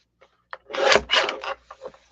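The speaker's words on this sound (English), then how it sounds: "So I'm going to trim off a chunk" A chunk of material is trimmed off with a few close rasping, scraping strokes, three or four short rubbing bursts with small clicks before and after, otherwise quiet.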